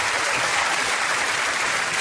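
Studio audience of a light-entertainment game show applauds as guests walk on, a dense, steady wash of clapping at full volume throughout, with no one speaking over it.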